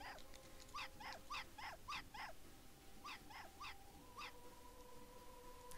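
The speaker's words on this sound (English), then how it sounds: "Stop barking." Repeated dog barks from a guard dog in the stealth video game Hitman: Blood Money, sharp and fairly near, coming in two bursts of five or six quick barks over a steady low ambient hum, with no talking.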